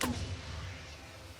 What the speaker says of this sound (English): Let's see if we can signal. Shoot the flare.